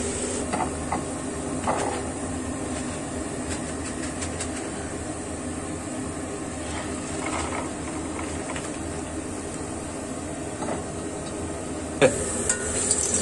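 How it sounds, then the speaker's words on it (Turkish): Potatoes fry in oil for maqluba with a steady, close sizzle and scattered crackles and pops throughout; no one speaks. "Patateslerimiz kızarmaya başladı."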